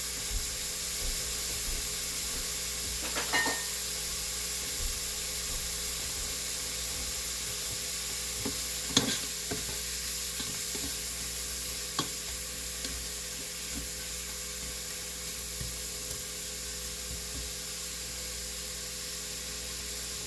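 Mushrooms and onions saute in a pan beside browning burgers, giving a steady, even sizzle and hiss throughout with occasional faint clinks and stirring taps, with no voices.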